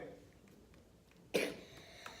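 A single sharp cough stands out against quiet background noise during badminton practice, followed by a faint smaller sound.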